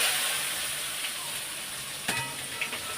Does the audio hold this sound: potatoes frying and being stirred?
yes